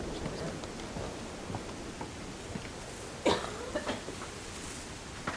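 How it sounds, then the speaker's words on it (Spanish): A single sharp cough sounds against a faint background hum, followed by a few softer throat noises, with a Spanish-speaking player in the middle of a video game session. "De verdad, disculpad la tos"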